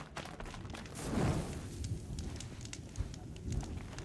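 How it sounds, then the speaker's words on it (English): A campfire in Horizon Zero Dawn's Frozen Wilds crackles steadily with scattered sharp pops over a low ambient rumble, swelling slightly around the first second. "There's a campfire here."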